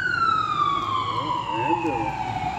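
A siren wails continuously with a slowly falling pitch, loud and steady, with faint background voices and traffic underneath.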